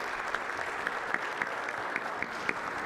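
An audience applauds after a conference presentation: steady, moderately faint clapping from a seated crowd, with individual claps scattered through a continuous patter for a few seconds.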